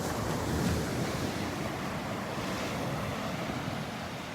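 Waves break on a sandy Gulf beach in North Naples, Florida, a constant loud rushing wash mixed with wind noise on the microphone and no one speaking.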